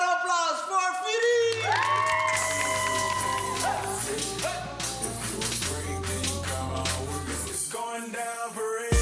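Loud crowd cheering and whooping for a performer announced on stage at a children's TV show, with music playing underneath and voices shouting throughout.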